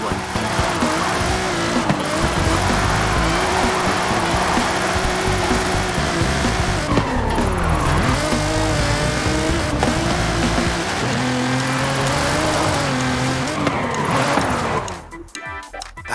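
A car drifting in Forza Horizon 5 at Drift Club Mexico, driven on a Logitech G29 wheel, screams with a revving, wavering engine and sustained tire squeal throughout, fading out abruptly at the end.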